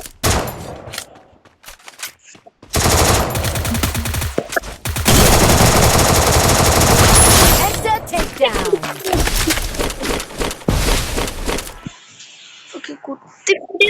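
Rapid automatic SCAR rifle fire in a battle royale shooter video game rings out in loud, sustained bursts separated by short pauses, with people talking over and between the shots.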